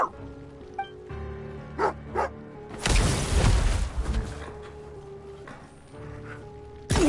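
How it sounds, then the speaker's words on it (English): A dog in the video game Genshin Impact gives a few short barks early on, followed by a louder burst of rustling and movement, set against a low ambient background. "tell your dog to get down and stay put!"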